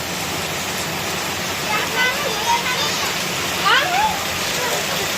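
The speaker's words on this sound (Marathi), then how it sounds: "पहिला पाऊस." The season's first rain falls in the evening as a steady, even hiss of water, with faint voices talking briefly under it.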